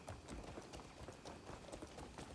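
Horse hooves clip-clop steadily in the Crimson Desert video game, a continuous run of quick, fairly loud footfalls over a dense ambient background with no talking.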